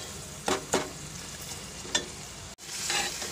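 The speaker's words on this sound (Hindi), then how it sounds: "ये मसाले बहुत अच्छे से भून चुके हैं" Spices frying in a pan for a prawn curry, a steady sizzle broken by several short bursts of stirring and scraping, close and moderately quiet.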